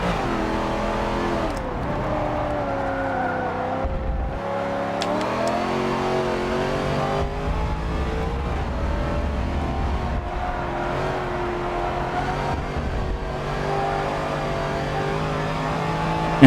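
A Corvette in a racing video game revs and accelerates, its engine note climbing and shifting in a steady, prominent drone that runs throughout without speech.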